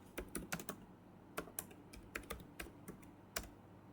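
Typing on a computer keyboard, a run of quiet, uneven key clicks in small bursts with short pauses, close by and fairly soft, with no voices.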